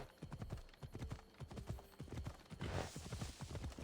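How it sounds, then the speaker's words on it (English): A horse gallops at full speed in Assassin's Creed Odyssey, with rapid, rhythmic hoofbeats pounding steadily and close up. The sound is fairly quiet and has no talk over it. "And now my horse is going at full speed."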